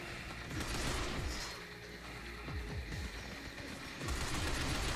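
Assault rifle gunfire in the third-person shooter Binary Domain rattles in rapid continuous bursts, dense sharp reports layered with booms, fairly faint in the mix.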